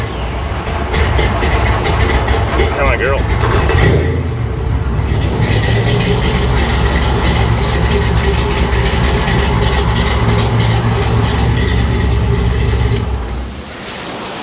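A 1955 Chevy Nomad's V8 idles steadily through a newly fitted exhaust, a loud, continuous low rumble that runs close and unbroken for most of the stretch before easing off near the end, with a brief spoken line over it.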